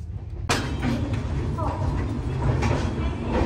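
Steady rumble and rattle of a moving passenger train heard from inside a carriage, with a sharp knock near the start and continuous broadband noise throughout; faint voices occasionally under the din.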